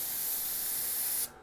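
Airbrush spraying paint in a steady, close hiss that cuts off abruptly just before the end, with no talking.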